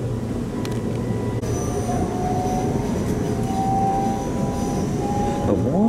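An electric train rolls along a local railway line between Tirano and Milano Centrale, with a steady low rumble of wheels and running gear and a rising motor whine, heard from inside the carriage throughout.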